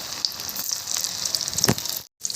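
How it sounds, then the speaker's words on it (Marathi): Potato bhaji fritters fry in hot oil with a steady bubbling sizzle that breaks off briefly near the end. "तर हे आता आपण तळून घेऊया"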